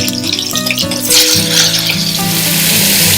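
Potato pieces drop into hot oil seasoned with turmeric and Kashmiri red chili powder for a Bengali niramish aloor dum, giving a steady close sizzle that swells into louder, broader frying over a low background hum.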